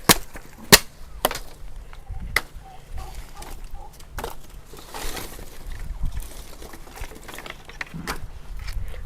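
Wood is chopped by hand in a rural setting with a storm approaching, sharp irregular thwacks of varying loudness spread across the span amid faint background noise.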